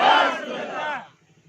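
A crowd at a religious gathering roars a slogan in unison in answer to a call, a loud massed shout lasting about a second before cutting off to near silence.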